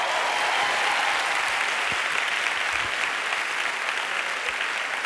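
A steady, even wash of applause from the studio audience at an Operación Triunfo duets gala, dense and continuous with no talk, moderately loud throughout.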